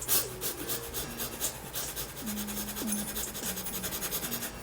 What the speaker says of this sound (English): Just sniffing in and out like I was a little rabbit.